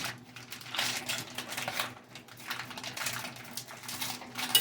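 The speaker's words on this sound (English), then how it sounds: "What I'm going to do first is I'm going to cut up this sausage." Knife slicing Polish kielbasa sausage at an angle on a board for a crockpot dinner with sauerkraut and potatoes, a run of light, irregular tapping cuts close by, no speech.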